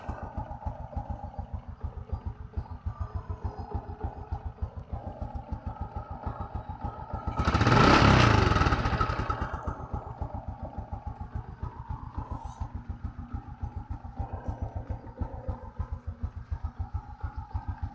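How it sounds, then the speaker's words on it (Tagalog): A motorcycle engine, just fitted with a new tensioner lifter and free of ticking, idles steadily with a fast, even putter, then revs up loudly for a couple of seconds before settling back to a smooth idle. "Kaya i-try natin idol ipaandar yung motor."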